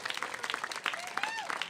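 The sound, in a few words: applause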